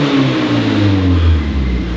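A Mazda car engine revs loud and close, its tone rising and then easing back down over two seconds.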